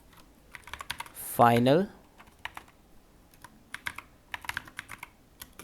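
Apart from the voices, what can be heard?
typing code on a computer keyboard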